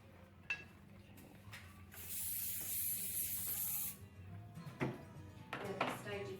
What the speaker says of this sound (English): So just add your Yeah.